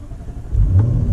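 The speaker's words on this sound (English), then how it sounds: "Wow, you can really hear that engine purr." A Jaguar F-Type SVR engine fires up and revs, a close, loud rising growl that swells after a brief quiet moment and holds at a strong rumble.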